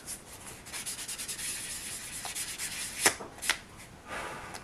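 Fine 320 grit sandpaper rubs over a resin figure in quick, close back-and-forth strokes, a soft steady scratching with a few sharper scrapes.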